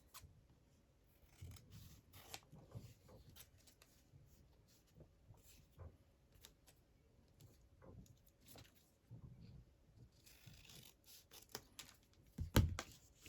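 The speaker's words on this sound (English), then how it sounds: "I'll trim it off the excess." Scissors snipping away excess paper from a crafted library card pocket, a series of quiet, close cuts and rustles scattered through the stretch with a sharper snip near the end.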